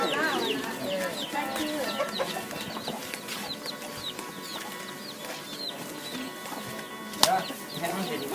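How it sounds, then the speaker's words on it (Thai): Fighting cocks at a gamecock farm cluck and crow in a dense, continuous chorus, with occasional wing flaps and one sharp louder call near the end. "เดี๋ยวขอเชิญเยี่ยมชมไก่ชนครับไก่"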